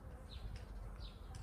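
Honeybees hum inside a hive before its spring expansion, a low, continuous buzzing drone with a few brief higher whines from individual bees passing near.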